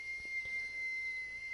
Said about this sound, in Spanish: nuevamente se volvió a escuchar aquel silbido